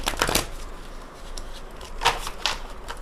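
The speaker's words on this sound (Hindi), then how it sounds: "टैरो कार्ड से मैं 3 cards निकालूंगी for your general life" Tarot cards shuffled and drawn during a Hindi tarot reading, with a few quick papery riffling bursts near the start, a soft lull, then more crisp card flicks and slides, close and alone.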